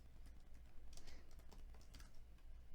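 Rapid keystrokes on a computer keyboard while entering descriptions in SolidWorks, a quiet, close, irregular patter of clicks that carries on without pause.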